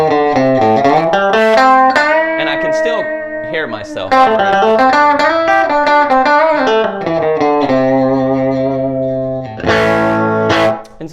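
Electric guitar on the bridge pickup played through a 5-watt 5F2A Princeton tube amp at about three-quarter volume, ringing chords and single notes with natural overdrive and sustain; a voice speaks briefly over the playing near the end.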